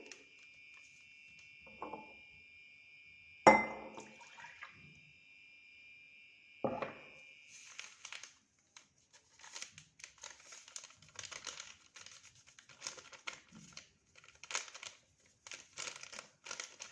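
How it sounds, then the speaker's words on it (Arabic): A yeast packet is torn open beside a cup of milk: sharp, close crinkling and rustling of the wrapper in quick bursts, then a long run of fine papery crackles, with no talking. "نفتح كيس خميره وهنحطه على اللبن"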